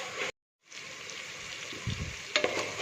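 Tomatoes and onions sauté in a pan for tomato fried rice, giving a soft continuous sizzle with a few louder stirring scrapes near the end, after a brief moment of silence early on.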